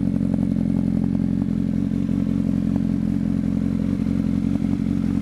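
A black 2005 Honda CBR1000RR fitted with an aftermarket exhaust idles loudly up close, a constant throaty engine note with light clatter and small ticks running through it.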